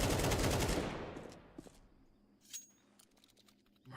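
Rapid automatic gunfire in a Counter-Strike match at a North American online esports tournament, a loud burst at the start that fades within a couple of seconds, followed by faint scattered game sounds.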